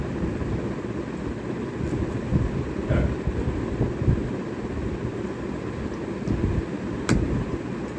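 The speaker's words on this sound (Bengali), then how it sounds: "সেই বৃষ্টি হচ্ছে বন্ধুরা, চারিদিকে পুরো সব ভেসে গেছে।" Heavy rain pours steadily and loudly close by, with a few faint distant rumbles that may be thunder, and no voices.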